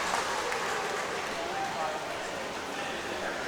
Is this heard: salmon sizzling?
no